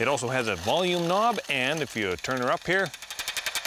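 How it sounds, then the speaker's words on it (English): Someone talks at first, then a fast train of sharp, evenly spaced clicks takes over, steady and fairly loud, like a bat's pulses through a detector. "there, that's the sound of a bat"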